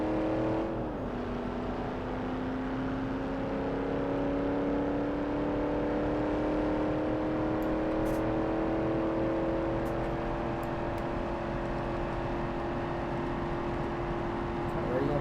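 A 1968 Dodge Coronet Super B with a 4-speed gearbox in the BeamNG.drive driving game revs and holds a steady, droning engine note after a quick initial shift, loud and close throughout.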